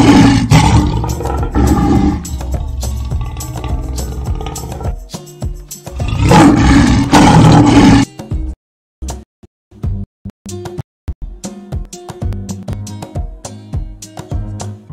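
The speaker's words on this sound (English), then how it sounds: "And the sound of the lion is..." Deep, powerful lion roars come in long bursts, loud and close, separated by pauses and followed by shorter grunting calls.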